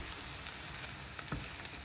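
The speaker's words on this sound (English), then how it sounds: "You have to be stir frying it, turning it." Abacha African salad sizzles gently in a pan while being stir-fried, a brief quiet hiss with a single soft scrape of stirring near the end.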